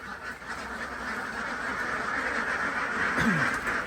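Egg-laying ducks quack nearby over a steady background hum, with a sharper honk-like call near the end.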